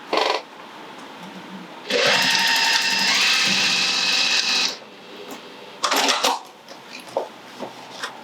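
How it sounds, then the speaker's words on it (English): A sewing machine runs a second row of stitching along a tote bag in a steady, close burst of about three seconds, with shorter start-stop runs before and after. "I'm going to add a second row of stitching to this one as well"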